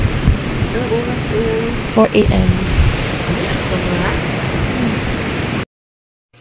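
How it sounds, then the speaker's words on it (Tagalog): Heavy rain pours steadily at a campsite in Palawan at night, a dense, even hiss close by that runs unbroken for several seconds, with a few brief voices and knocks mixed in before it cuts off abruptly. "Kasi ang lakas ng ulan."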